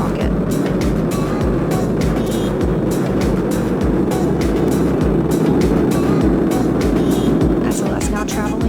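The SLS rocket during the Artemis 1 launch, heard as a dense continuous roar with crackling rumble throughout, while a commentator talks over it.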